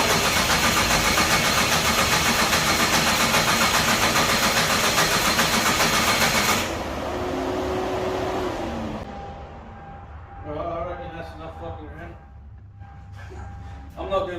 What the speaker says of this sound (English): I just wanted to turn it over a few times so I don't cry if it starts.